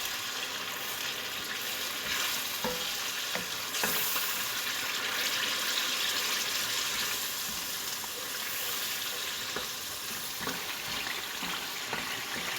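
Masala with cream and yogurt sizzles steadily in a pan while being sautéed, a continuous hiss broken by occasional scraping stir strokes, with no voices.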